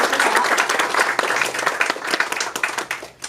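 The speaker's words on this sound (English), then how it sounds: "I think another round of applause for that" An audience at a talk on reproductive rights in Florida gives a round of applause, a dense burst of many clapping hands that thins out toward the end.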